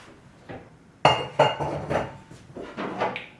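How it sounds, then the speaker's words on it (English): A metal baking pan picked up in a home kitchen clanks and clinks against the counter and other dishes, several sharp close knocks spread over a few seconds, no talking. "grab this pan"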